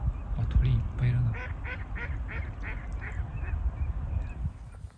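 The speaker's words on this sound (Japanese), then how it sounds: "鳥の鳴き声しかしない。" Many waterfowl honk and quack repeatedly at a large, quiet pond in snowy Hokuriku in winter, the calls near and overlapping in a steady stream, with faint voices now and then.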